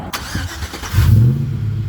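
A 2005 Chevrolet Silverado pickup's engine cranks and fires after a nitrous test, a loud low rumble catching about halfway through and settling into a steady close idle.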